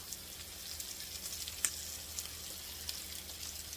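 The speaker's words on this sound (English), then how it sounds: "These wonderful salmon cakes. I'm getting them in the pan." Salmon cakes sizzle in a pan with a faint, steady frying hiss, broken by a few soft pops and one sharper crackle; no one speaks.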